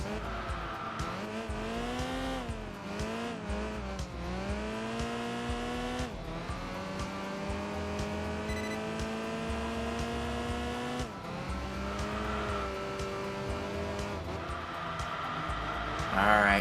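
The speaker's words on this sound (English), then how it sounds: "hearing the reverberation of the exhaust notes in the tunnel" A racing car's exhaust note in the Enthusia Professional Racing video game booms and reverberates through a tunnel. The engine revs rise and fall steadily through several gear changes, loud and close throughout.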